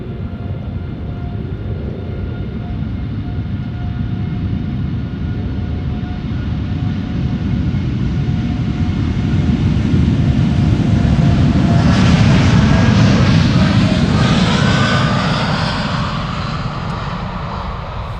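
KLM TUI airliner, an 11-year-old Belgian-registered jet, taking off from Amsterdam Schiphol for Bonaire, a loud broad engine roar that builds toward a peak midway, then slowly fades as it climbs away.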